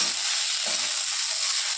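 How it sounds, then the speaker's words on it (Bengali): Sago pulao being stirred in a hot wok, a steady bright frying sizzle with soft scraping of the stirring, close and continuous with no talking. "এবার নাড়াবো, ভালো করে মেশাতে হবে"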